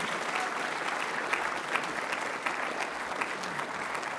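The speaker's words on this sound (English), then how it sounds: "remember that comment about spontaneous applause?" Steady applause from an audience at a community award ceremony, dense and continuous with a few sharper claps standing out, holding an even level throughout.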